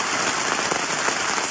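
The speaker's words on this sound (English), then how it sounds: "That is some rain." Heavy rain pours steadily while camping in the French mountains, a loud, dense, continuous hiss of drops drumming on a nearby surface with no break.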